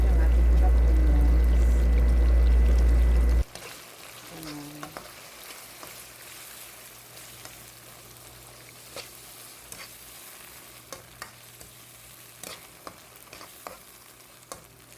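Marinated chicken breast with garlic, ginger and onions frying in about two tablespoons of oil, a bright steady sizzle with scattered utensil taps after a loud opening burst, and a voice briefly heard over the cooking.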